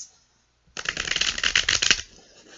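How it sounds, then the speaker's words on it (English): Tarot cards being shuffled by hand: after a brief quiet moment, a close, crisp run of rapid riffling flutter lasts over a second, then stops. "I'm going to shuffle the cards"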